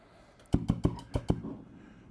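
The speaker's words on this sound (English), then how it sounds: "so I'm going to turn on the gas" Five sharp clicking ticks in quick succession, close by, as a gas grill's fire-assist igniter sparks to light charcoal, then a soft hiss of gas lingering afterward.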